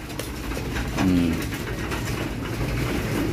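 Pigeons coo softly while pecking at a feed mix of pigeon pellets and barley, the low burbling calls close and continuous over a busy background of birds feeding.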